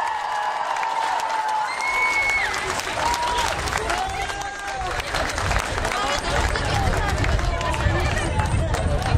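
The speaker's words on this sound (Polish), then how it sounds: "Wielkie brawa" Crowd applause and cheering at a record-breaking Zumba dance event at the University of Warmia and Mazury in Olsztyn, a large gathering clapping steadily amid hubbub, whoops and voices throughout.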